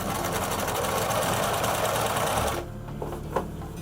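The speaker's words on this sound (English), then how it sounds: "So we're now sewing the arm in," A sewing machine stitches the arm seam of a sun dress in a loud, rapid, continuous run of about two and a half seconds, then stops, with only faint fabric handling after.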